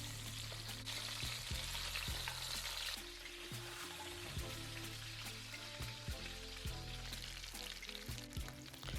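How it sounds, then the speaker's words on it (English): Lamb shanks browning over medium-high heat in a hot pot, a quiet, steady crackling sizzle throughout with occasional scrapes and low hum. "We're browning the lamb shanks, all right?"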